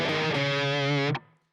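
Heavily distorted electric guitar run in standard tuning, one sustained buzzing phrase held for about a second before being choked off abruptly, no voices.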